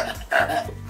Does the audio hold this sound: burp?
yes